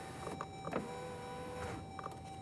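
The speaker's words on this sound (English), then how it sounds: "test the functionality of the window switch" Power window on a Jeep Grand Cherokee whirs faintly under a steady electrical hum, with a few brief clicks and thumps from the switch and door.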